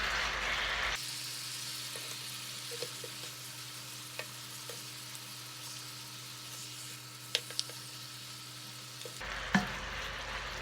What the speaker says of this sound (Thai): เวลาเราผัดเนื้ออย่างเงี้ยเพื่อนๆ เราใส่เกลือนิด ๆก็อร่อยแล้วค่ะ